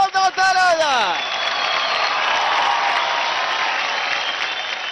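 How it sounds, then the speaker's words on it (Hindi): Loud, steady applause from a studio audience at a televised Indian dance competition show, filling the whole stretch after a brief burst of music at the start. "जोरदार तालियां"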